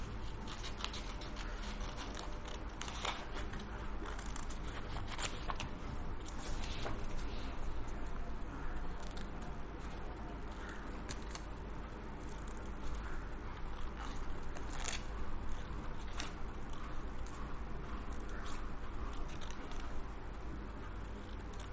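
Scissors cutting a small paper crown shape for a handmade badge, a faint run of quiet irregular snips and paper rustles close by, with no talk.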